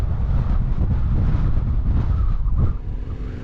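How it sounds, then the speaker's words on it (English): Heavy wind roaring across the microphone at the snowy top of Beartooth Pass in Wyoming, a loud continuous rumble mixed with road noise that eases slightly near the end. "Ooh, windy."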